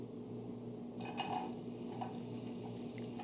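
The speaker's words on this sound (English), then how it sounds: "Chopped red onion. I love the smell of onions cooking in the kitchen." Chopped red onion goes into heated extra virgin olive oil in a home kitchen pan, giving a steady low sizzle over a constant hum, with a few light utensil clinks and no talking.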